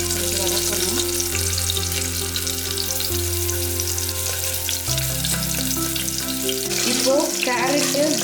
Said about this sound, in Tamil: சின்ன வெங்காயம் 10, 2 பச்சை மிளகாய் 2 இதெல்லாம் போட்டு கொஞ்சம் வதக்கணும்.